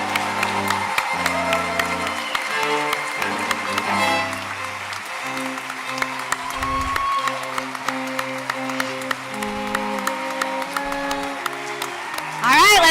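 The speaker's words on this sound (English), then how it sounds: "Give him a big round of applause," Audience applause and cheering at a medical school white coat ceremony, continuous clapping under music with steady tones and voices, ending in a louder burst.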